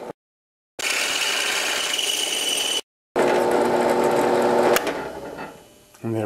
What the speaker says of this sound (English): So I decided to drill the other hole